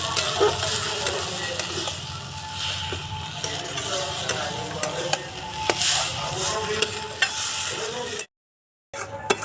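Yardlong beans fry with turmeric in a pan, sizzling steadily while a spatula scrapes and stirs in irregular strokes; close, fairly loud, with a brief silent dropout near the end and no talking.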